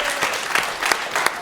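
French radio show studio audience applauding a woman caller, a short patter of clapping from a small group with a few louder individual claps standing out.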